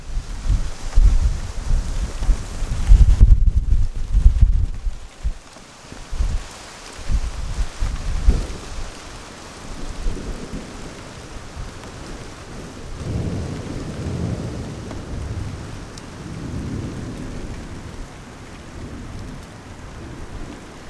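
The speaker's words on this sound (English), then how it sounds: "So situation no change, honking down with rain." Heavy night thunderstorm in a valley with pounding rain on a camping truck, deep thunder rumbling loudly in the first seconds, then steady drumming rain and softer distant rolls of thunder.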